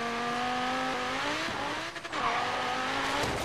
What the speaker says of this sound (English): I keep skidding